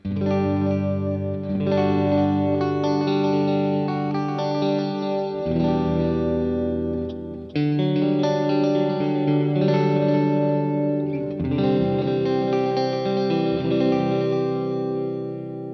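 Clean electric Stratocaster guitar chords on pickup position four through a clean amp channel ring out with a shimmering, chorus-like wash and light echo, strummed steadily and sustained for several bars.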